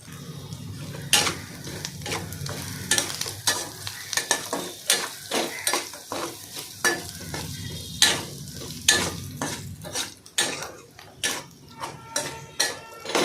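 Soybean chunks go into spice masala frying in a pan, giving a steady sizzle broken by repeated sharp scraping stir strokes against the pot, close and fairly loud, with no talking.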